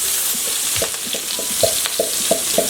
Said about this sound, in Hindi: ये ऑयल हमारा गर्म है जी, इसमें हम प्याज, सब्ज़ मिर्ची और थूम जो हमने ब्लेंड किया था